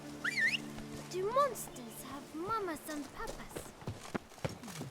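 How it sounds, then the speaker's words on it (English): Hooves clip-clopping from Roach, a horse in The Witcher 3: Blood and Wine, a quick uneven gait with the animal agitated and a chirpy tonal sound over it, under someone talking. "Madre mía, se vuelve loco el caballo."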